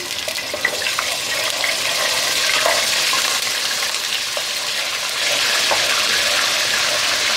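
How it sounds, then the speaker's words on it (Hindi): Ginger garlic paste fries with garam masala in a pan, giving a close, steady sizzle with a watery hiss and light stirring scrapes, no voices over it. "अब हम इसमें अदरक और लहसुन का पेस्ट शामिल कर देंगे"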